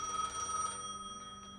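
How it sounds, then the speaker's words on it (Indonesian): A telephone rings in the video game Gas Station Simulator, a clear electronic bell tone sounding for about half a second before dropping back under a steady hum of game ambience. "Ini ada telepon."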